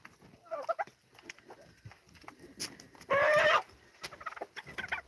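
Farm turkeys and chickens in a poultry yard, with scattered clucks and soft calls and a single loud gobble burst standing out midway, close and without talk.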